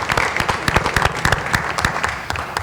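A round of applause fills a board of education meeting room, steady clapping from the gathered members and audience lasting a few seconds at moderate volume with no talk over it.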